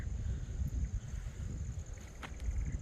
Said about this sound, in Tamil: உண்மையிலே செம்ம காற்று, அப்படியே சிலுன்னு அடிக்குது